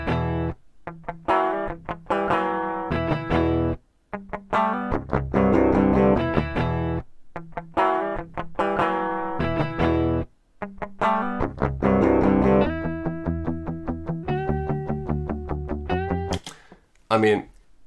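Dry, unprocessed DI electric guitar playing a riff of chugging palm-muted chords and sustained notes, with short gaps between phrases and bright single notes near the end, loud and alone.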